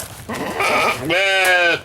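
Goats in a farm pen bleat twice at close range, a short call followed by a longer wavering bleat.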